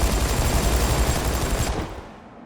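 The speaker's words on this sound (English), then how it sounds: "When Batman tries to fly over the wall dividing Gotham from Arkham City, gun turrets shoot at him." Gun turrets in the game Arkham City spraying continuous automatic fire at Batman over the wall, a dense, loud rattle that runs steadily and then cuts off, fading into a brief decay.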